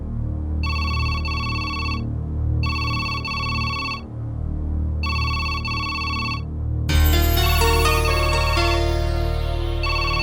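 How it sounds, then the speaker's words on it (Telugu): A phone ringtone rings loudly in three evenly spaced bursts of repeating electronic tones, then gives way to a dense burst of music near the end. No one speaks. "ఫోన్ రింగ్ అవుతుంది."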